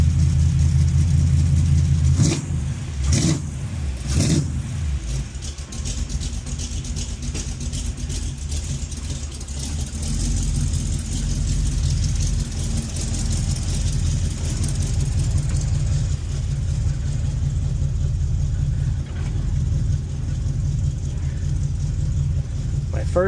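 A Chevrolet El Camino starts on a freshly installed ignition with a few cranking bursts, then settles into a steady, rumbling idle that keeps running close by for the rest of the stretch.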